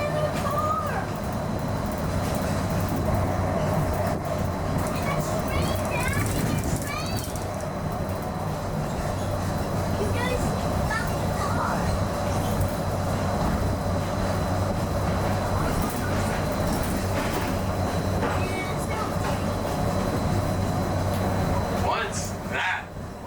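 The Disneyland monorail runs along its elevated track, a steady rolling rumble with a constant electric whine and occasional squeaks, while a recorded narrator's voice talks over it throughout.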